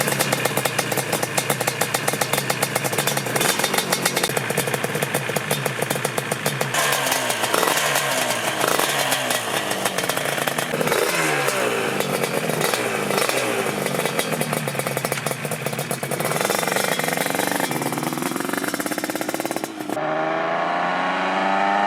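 A built Yamaha RD350 cafe racer, a two-stroke motorcycle, rips through neighborhood streets, its raspy engine revving and shifting loudly and continuously before cutting away near the end.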